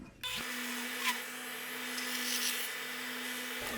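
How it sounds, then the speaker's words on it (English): A belt sander runs steadily in a woodshop, rounding over the short point of a wooden rack piece, with a constant motor hum and a broad, even grinding hiss that starts abruptly and cuts off near the end. "I'm gonna hop right on over to our belt sander and put a round over right over this short point"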